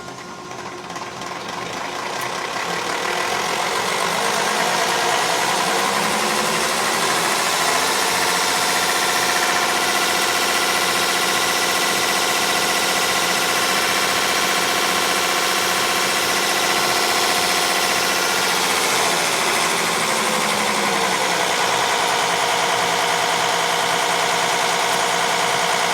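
A 1968 Minneapolis-Moline G900 tractor engine running warm after a DBG injection pump repair, a loud, steady diesel drone close by that builds within the first few seconds and holds for the rest, with a slight pitch shift near the end.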